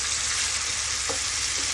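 Pork for sitaw adobo sizzles steadily in a pan as soy sauce goes in, a continuous close hiss of frying with a brief liquid splash partway through.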